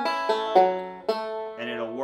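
Bluegrass banjo lick from Pig in a Pen played without the hammer-on, using only the second finger: a few clear plucked notes ringing in sequence, close and solo, with no talking.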